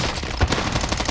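Gunfire in a Call of Duty video game, a quick, loud burst of rapid shots mixed into the game's dense background noise.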